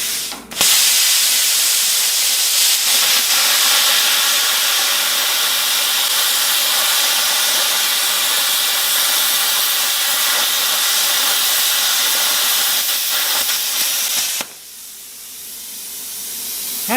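A Prime Weld Cut 60 plasma cutter slices through half-inch metal, giving a loud, steady, broad hiss that runs unbroken for about fourteen seconds and then cuts off abruptly.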